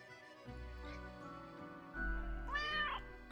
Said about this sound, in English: The cat emits a delighted meow at the prospect.